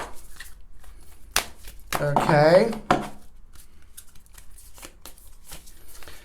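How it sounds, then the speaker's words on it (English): A deck of oracle cards being shuffled by hand, a run of crisp riffling and slapping sounds close up with a flurry in the middle, while someone speaks briefly at the start. "Okay, so now I'm going to shuffle these cards."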